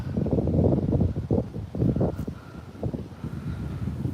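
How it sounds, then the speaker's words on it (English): Strong gusty wind buffets the microphone outdoors in Australian bushland near big gum trees, a loud continuous low rumble with surging pulses and no talk. "It's really windy. That's why it's windy. You can't hear me very well."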